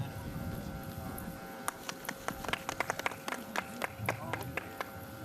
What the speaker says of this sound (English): we're going to go ahead and clap it up for those who are here with us